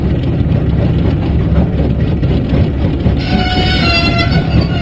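A cartoon engine train from a Thomas & Friends video game rumbles steadily along the track in a loud, continuous chugging drone, joined near the end by a brighter, tonal layer.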